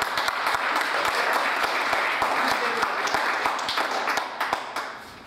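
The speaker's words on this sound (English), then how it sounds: "I reckon he deserves another round of applause." A room full of people applauding after a speaker at a blockchain opening night event, with steady overlapping claps and sharper individual hand strikes standing out, sustained throughout and tapering slightly at the end.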